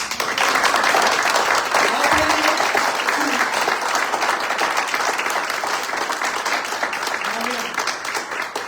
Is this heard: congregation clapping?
yes